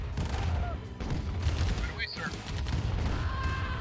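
Gunfire crackles in the Command & Conquer Remastered video game as bursts of shots and booms pop over a busy soundscape, with a voice talking in the clip.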